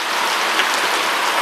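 Heavy rain pours down under a park shed, a dense, steady hiss of drops hitting the surface with no pauses and no voices.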